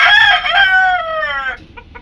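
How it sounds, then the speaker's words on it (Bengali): Chickens being given lemon water sound off up close: a loud, drawn-out crow with rich harmonics lasts about a second and a half, then gives way to a few short clucks. "এই যে লেবুর পানি খাইতেছে মুরগিগুলো"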